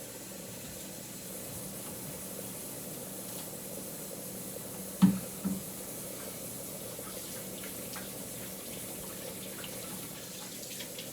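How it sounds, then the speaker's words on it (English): A kitchen sink tap running steadily as a utensil is rinsed, a continuous moderate water rush with a couple of brief clunks partway through. "Whenever you're done using a utensil, always put it in the sink and make sure to rinse it."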